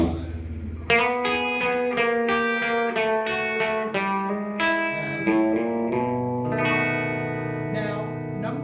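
Guitar playing a 12-bar blues turnaround, a sequence of plucked notes and chords moving through a descending line, clean and close with a light effect, no talking.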